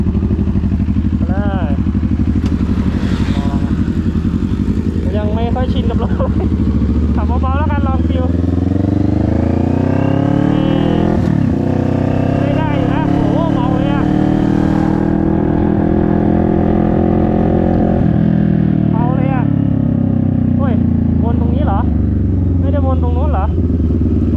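A CFMOTO 650NK motorcycle on the move gives a loud, close engine drone that rises and falls through the gears, with people talking over it throughout.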